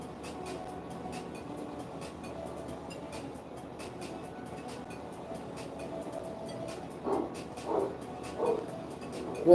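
A few short barks from a dog at a distance, spaced about a second apart, over a low background hum.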